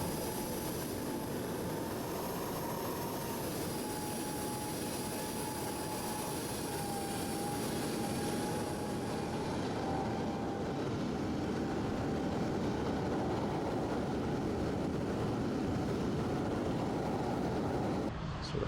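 Airliner approaching to land at Heathrow in Microsoft Flight Simulator, a steady loud jet engine roar with a sustained whine, holding constant for the whole stretch before cutting off abruptly at the end.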